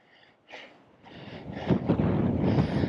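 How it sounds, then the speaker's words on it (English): Heavy wind buffets the microphone in the Wah Wah Mountains of southern Utah, in rising, rumbling gusts that grow louder and more constant toward the end. "Really windy. I'm hoping that the wind isn't drowning out my voice and the mic is working."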